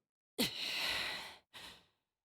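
A heavy breath from someone: one long loud exhale lasting about a second, followed after a brief gap by a shorter, softer breath, close and alone.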